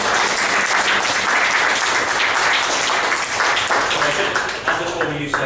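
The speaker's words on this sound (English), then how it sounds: "So a round of applause for Birbeck" Loud, sustained clapping from an audience at an International Day Against Homophobia event at Birkbeck College in London, even and dense from start to finish, tapering slightly at the close.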